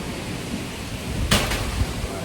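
Typhoon Kristine batters an outdoor spot with steady broadband roar of wind-driven rain, broken by a couple of sharp louder gusts or bursts partway through.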